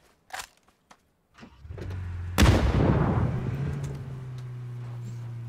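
An HE grenade goes off in the video game PUBG: one sharp, loud blast after a few faint clicks and thuds, followed by a long rumbling decay with a steady hum underneath.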